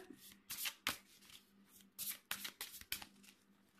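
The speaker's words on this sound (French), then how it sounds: "donc je remélange les cartes" Tarot cards are shuffled by hand in a series of quick, close riffling bursts with short pauses between them, soft and crisp in a quiet room.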